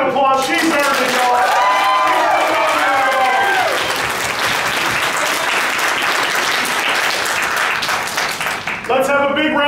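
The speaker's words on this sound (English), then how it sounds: "Give her a big round of applause." An audience at a costume contest awards ceremony breaks into loud, sustained applause with cheers and whoops, while a voice talks over the start and the end.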